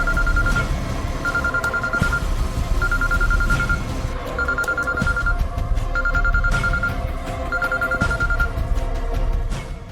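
A telephone rings in repeated bursts, a steady pattern of trilling rings with short pauses, over a busy background with scattered clicks and knocks.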